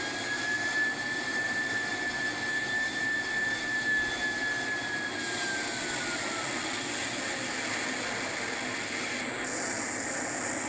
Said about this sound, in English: we're going to go ahead and taxi in behind him here